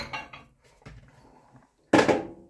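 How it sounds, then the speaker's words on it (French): Sweet potatoes are placed into a microwave, giving a few light clinks and taps of a dish being set down, then one louder clatter near the end, close and isolated. "Et je vais mettre au micro-ondes."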